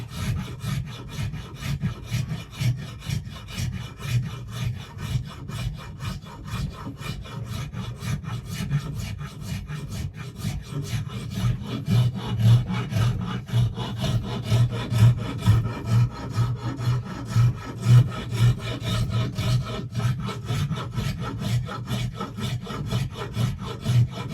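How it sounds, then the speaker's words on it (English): Rasp filing the wood of an axe handle during hafting, steady rhythmic back-and-forth rasping strokes, close and continuous, with no talking. "So what I'd do is I'd go back to the rasp and I'd come in here and take all that away."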